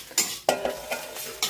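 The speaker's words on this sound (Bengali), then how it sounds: "তো ডিম ভাজা হচ্ছে এদিকে" An egg fries in a pan while a utensil knocks and scrapes against it in a few sharp, separate strikes, over a faint, steady sizzle.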